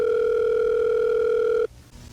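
Steady telephone dial tone on a phone call recording, loud and continuous for over a second and a half before cutting off abruptly into faint line hiss.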